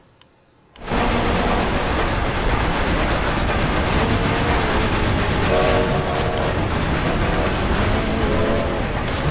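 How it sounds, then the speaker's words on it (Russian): In the Forza Horizon 2 racing game, a train overtakes the player's car; a loud, dense rumble of rolling wagons and rail noise bursts in after a quiet start, with brief horn tones sounding midway. "Но меня поезд обгоняет."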